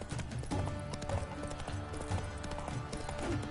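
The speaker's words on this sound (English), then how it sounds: "hoofs pounds the ground" Rapid clip-clop of horse hooves pounds steadily at close range, a quick galloping rhythm, fairly quiet against a soft background.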